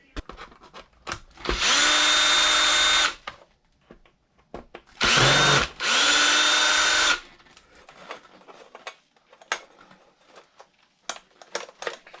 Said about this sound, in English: now next, we need to undo these bolts here in order to mount this on